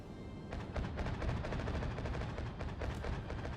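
Naval anti-aircraft guns on the battleship USS New York fire at torpedo bombers in World of Warships, a dense, continuous rattle of rapid shots filling the whole stretch.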